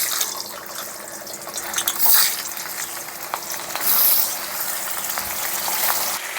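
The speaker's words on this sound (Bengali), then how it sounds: "এখন মাছগুলো ভেজে নেব।" Pangas fish frying in hot oil in a kadai, a bright crackling sizzle that swells and fades as the pieces are stirred, close and continuous with no voices.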